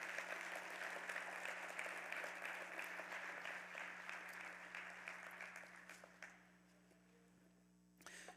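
Congregation in a church applauds for the Lord during a sermon, steady broad clapping lasting about six seconds, then thinning out and fading, with a brief burst again near the end.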